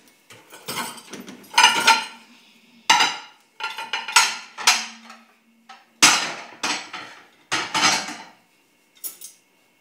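Dishes, glasses and cutlery clank and clatter in repeated bursts as a dishwasher is emptied, loud close-up knocks and rattles separated by short pauses.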